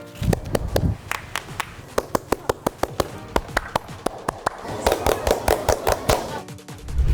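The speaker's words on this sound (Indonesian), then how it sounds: "Bener, tepuk pramuka." Indonesian scout rhythmic clapping, tepuk pramuka, a group of hands beating out a patterned sequence of sharp claps with quick bursts and pauses, loud and close, ending in a denser flurry of claps with some voices beneath.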